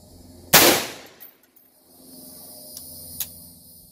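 A rifle fires a single sharp, loud, close shot during a muzzle velocity test, followed by a fading echo and a couple of faint clicks.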